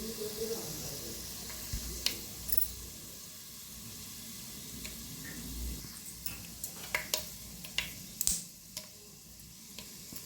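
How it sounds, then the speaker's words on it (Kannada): Spices and peanuts frying in a pan, a low continuous sizzle broken by scattered sharp pops and clicks of stirring that grow more frequent toward the end, with no voices. "ಇದೆಲ್ಲ ಫ್ರೈ ಆಗಲಿ ಅಷ್ಟೊತ್ತು."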